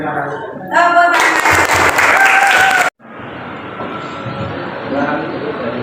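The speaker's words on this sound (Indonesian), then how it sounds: "Terima kasih. Tepuk tangan." Applause from a school arts-and-culture class performance, a broad burst of clapping that swells loud, breaks off abruptly, then resumes as a steadier, slightly softer crowd clap with voices mixed in.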